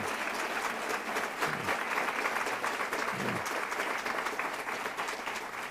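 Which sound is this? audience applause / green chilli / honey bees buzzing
audience applause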